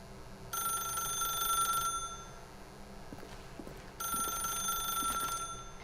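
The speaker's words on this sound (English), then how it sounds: "then pick up the phone." A telephone rings twice in the video game The Stanley Parable, two bright electronic trilling bursts about three seconds apart over a quiet hum, with no voices.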